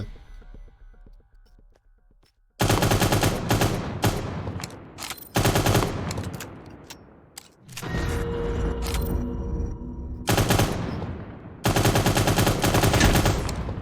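Loud automatic gunfire in the shooter game Cyber Hunter comes in long, dense bursts of rapid shots, separated by short pauses, after a quiet opening of a couple of seconds.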